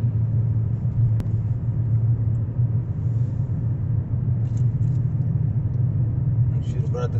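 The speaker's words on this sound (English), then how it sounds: "cars driving around here." A low, continuous rumble of car traffic in Theodore Roosevelt National Park rolls on steadily, with a few faint higher clicks and sounds drifting in near the end.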